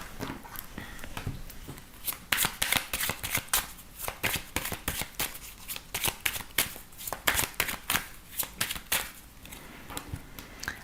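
Oracle cards being shuffled and cut, a rapid run of crisp riffling flicks and slaps, close and clear with no talk.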